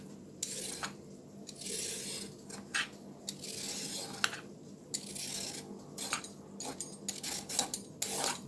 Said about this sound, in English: Okay, I'm gonna peel a carrot.